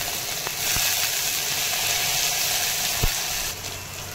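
A tempering of cumin, green chilli and tomato sizzles in hot oil for appe: a steady, close hiss with a few sharp pops and clicks, and no voices.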